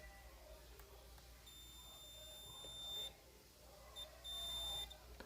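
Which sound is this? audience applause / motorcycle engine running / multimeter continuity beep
multimeter continuity beep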